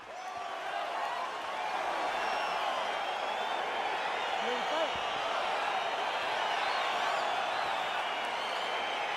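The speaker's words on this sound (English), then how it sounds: "crowd getting excited as this fight gets underway" Arena crowd at a UFC fight roars steadily as the bout gets underway, a dense sustained wall of cheering and whooping from a large audience, loud and continuous throughout.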